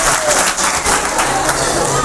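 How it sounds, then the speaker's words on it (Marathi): Loud burst of audience applause at a motivational talk on employment guidance, dense clapping from a packed hall heard close and steady throughout. "एकासाठी टाळ्या एक वेळा"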